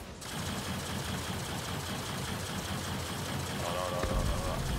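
Nox hover bike engine in the space game Star Citizen, a steady buzzing drone with a pulsing low throb, close and continuous, rising slightly near the end as a voice talks over it.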